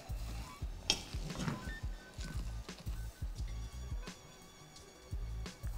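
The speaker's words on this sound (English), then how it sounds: "I'm just gonna give this one final mix." Black-eyed peas and rice stirred in a pot with fresh thyme and pepper, a soft wet squishing and scraping with faint sizzling, steady and close over several seconds.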